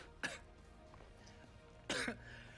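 A developer coughs twice during a game livestream, two short, sharp bursts about a second and a half apart, close to the microphone, with quiet room tone between.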